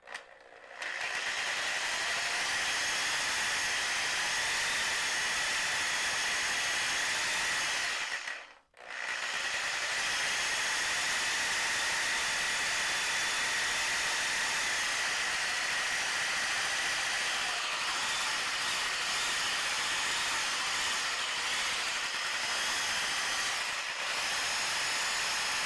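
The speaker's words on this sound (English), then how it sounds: "Tie her on down to the Sawzall." A Sawzall reciprocating saw with a bottle of e-juice tied to it runs to shake the liquid, making a loud, steady mechanical buzz that cuts out briefly once and then resumes until the end.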